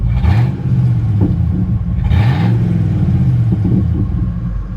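A Ford F-150 pickup that had been idling too high settles its engine back to a normal idle: a steady low rumble, with two brief revs that rise and fall back down.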